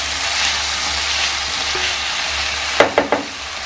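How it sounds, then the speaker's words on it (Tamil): Tomatoes with salt being stirred in a hot cooking pan: a steady, close sizzle throughout, then three quick scraping strokes of the spoon near the end. "உப்பு போட்டு நல்லா கலந்துருங்க."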